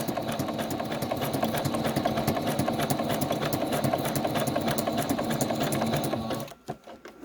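A sewing machine runs a steady zigzag seam with fast, even mechanical clatter at moderate volume, stopping abruptly near the end with a few faint handling sounds.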